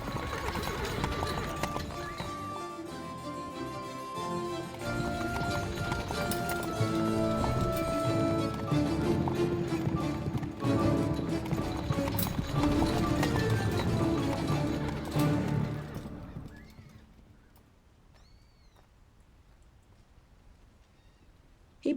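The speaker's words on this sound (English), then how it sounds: "The horses." Horses gallop with rapid, dense hoof clatter and occasional whinnies, loud and continuous for about fifteen seconds over music before fading out, leaving a quieter tail.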